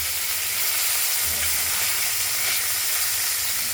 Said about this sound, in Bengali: মাছগুলোকে আমরা দুটো পিস করেই ভেজে নিচ্ছি।